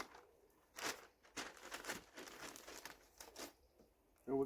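Masking paper crinkles and crumples up close as it is handled and stuck up on a car being prepared for spray painting a wing at home, in a series of short rustling bursts with brief pauses between them.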